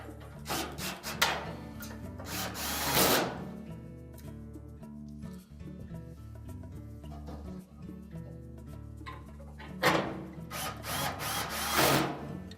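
A power driver whirs in two bursts, near and fairly quiet, as it drives retaining screws into the cross piece of a Whirlpool dryer during a repair, with faint handling noises in between.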